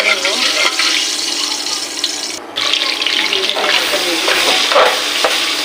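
Bay leaf, a piece of cinnamon and two split dried red chilies fry in hot oil, a loud, dense, continuous sizzle with a brief dip partway through, close up and without talk.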